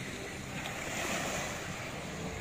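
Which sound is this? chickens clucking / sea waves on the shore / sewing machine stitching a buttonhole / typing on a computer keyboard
sea waves on the shore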